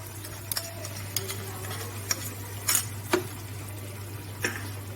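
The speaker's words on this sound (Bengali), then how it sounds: "ফ্লেমটা আমি লো করে কষাচ্ছি" Gravy for a Bengali shahi malai bhetki fish curry is stirred in a pan over a low flame: sparse, light taps and scrapes of a utensil on the pan over a steady low hum, with no speech.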